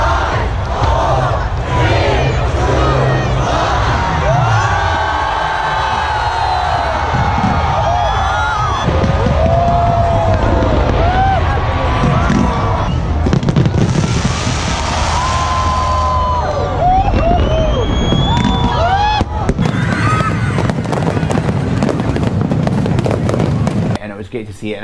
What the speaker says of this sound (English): The fireworks were, of course, amazing.